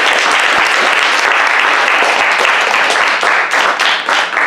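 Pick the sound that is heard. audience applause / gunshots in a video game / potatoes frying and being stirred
audience applause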